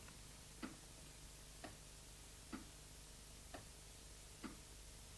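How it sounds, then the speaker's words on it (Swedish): A wall clock ticks slowly and steadily, five soft, evenly spaced ticks about a second apart, faint against a quiet background hiss. "Väggklockan tickade sakta."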